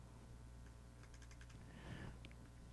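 Quiet clicks of keys on a computer keyboard as an item price is typed, a few scattered, close-up taps over a low hum, with no talking.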